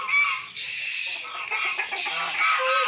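Chinese geese calling at close range on a backyard poultry setup, a steady run of harsh, honking cackles with no pause, loud and alone with no talk over it.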